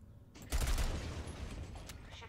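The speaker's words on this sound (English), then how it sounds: "I wonder if I can shoot this window out." Gunfire in the first-person shooter tower-defense game Sentry as a window is shot out: a sudden burst of rapid shots breaking into a loud, rumbling blast that decays over a couple of seconds.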